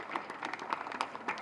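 Audience applause rises at an event closing a Rotary Club programme, a dense patter of many hands clapping together at moderate distance, steady and brief.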